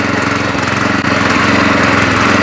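A Loncin LC-1200 walk-behind tractor engine runs steadily nearby, a loud continuous mid-pitched drone with a brief dip partway through.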